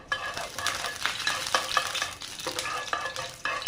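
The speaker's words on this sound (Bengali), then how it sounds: "আমি গোটা কালো জিরে একটু ভেজে নিচ্ছি" Whole black cumin seeds frying in hot oil over medium heat, a bright crackling sizzle with bursts of spattering and stirring scrapes, close and alone without talk.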